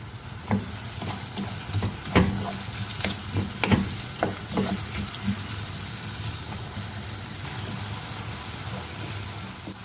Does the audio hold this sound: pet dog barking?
no